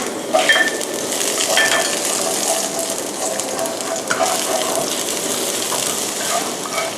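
Garlic and chili fry in hot vegetable oil in a wok for Thai roasted chili paste, a loud, steady, close sizzle with occasional clinks of a utensil stirring against the pan.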